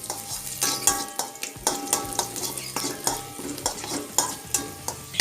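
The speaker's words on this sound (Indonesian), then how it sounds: "Setelah spaghetti matang, kita tumis bawang putih." Garlic sautés in hot oil for spaghetti aglio e olio, a continuous sizzle broken by repeated scraping and clinking as a utensil stirs the pan in an uneven rhythm, fairly close, with no talking.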